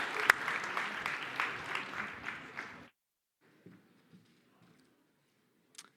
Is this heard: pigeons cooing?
no